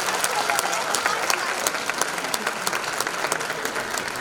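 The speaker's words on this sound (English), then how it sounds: "these teachers need a big round of applause," Audience applause for the teachers at a preschool annual day function, a steady dense wash of many hands clapping that carries on for several seconds at moderate level.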